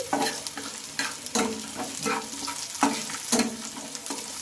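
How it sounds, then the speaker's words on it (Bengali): Carrot pieces get stirred in a hot frying pan with oil, a sizzling hiss broken by about half a dozen rhythmic spatula scrapes, close and clear with no voices. "গাজরটা দিয়ে নিলাম, দিয়ে একটু নেড়ে দিচ্ছি।"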